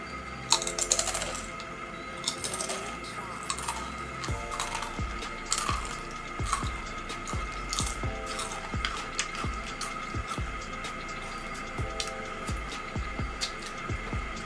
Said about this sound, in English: if you guys hear that rumbling noise, that's the steamer warming up.